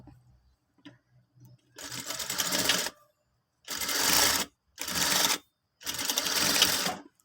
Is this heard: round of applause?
no